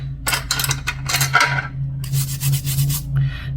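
A nail brush is scrubbed clean in quick, bristly rubbing strokes, rasping in bursts with short pauses, over a constant low electrical hum.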